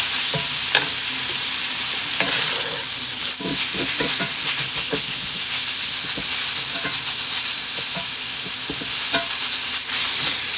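Sausage browning in a pan, a steady close sizzle and fry with repeated scraping stirs and light clinks throughout, no voices.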